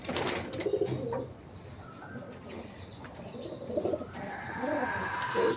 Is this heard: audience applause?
no